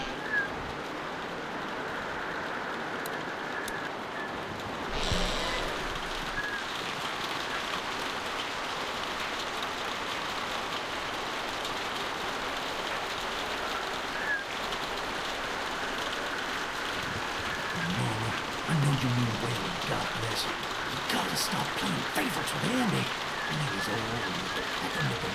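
Steady rain falls outside a barn in The Walking Dead video game, a continuous close hiss of drops on surfaces that runs throughout with no pause.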